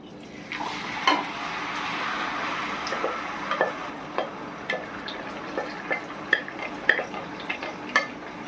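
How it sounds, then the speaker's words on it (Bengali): Marinated chicken frying in hot oil for gandharaj chicken, a steady broad sizzle with scattered sharp clinks and scrapes of a utensil against the pan, close and moderately loud throughout. "এই গরম তেলের মধ্যে আমি এই দেখো ম্যারিনেট করা চিকেনগুলোকে আমি ছেড়ে দেব"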